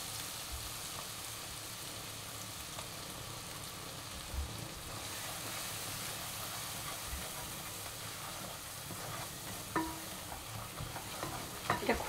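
Cumin and turmeric spice paste frying in a pan for a spicy Bengali country-chicken curry, a fairly quiet steady sizzle with stirring scrapes and a few sharper clinks toward the end.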